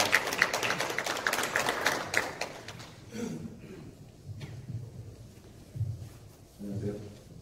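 Brief burst of audience clapping at a citizens' regional meeting in Hwaseong, a crowd applauding for about three seconds before fading into quiet room tone and a voice at the microphone.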